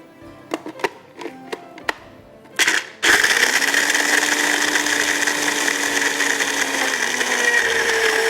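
Several light clicks and taps come first. Then an electric blender starts grinding roasted blanched almonds, a loud, steady whirring roar that holds for several seconds and shifts slightly in pitch as the nuts break down.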